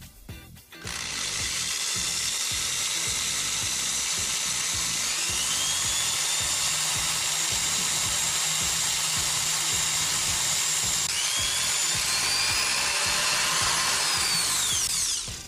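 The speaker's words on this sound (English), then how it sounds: "Let's see how well this thing can withstand a power drill." A power drill whines continuously as it bores into a rugged E Ink display, a loud, steady high-pitched drone starting abruptly and holding until a brief stop near the end.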